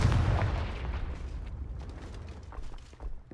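Confringo fire spell explosion in a Harry Potter video game, a heavy booming blast that rumbles and crackles for several seconds with a sustained low roar.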